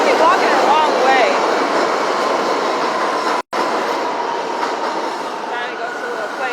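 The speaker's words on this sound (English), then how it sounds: "I ended up having to get back on the train." A subway train runs along the tracks, a loud, continuous rumble with metallic wheel squeals and screeches, heard from close by, with a brief dropout partway through.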